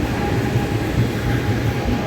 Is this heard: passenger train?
yes